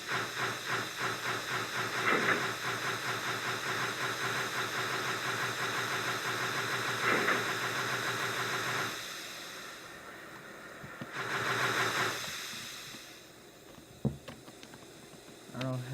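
Steam locomotive engine in a voxel train video game, throttle opened up, chuffing in a steady rapid rhythm with hissing, then easing off into quieter rumble with a brief burst of steam hiss and a sharp clank near the end.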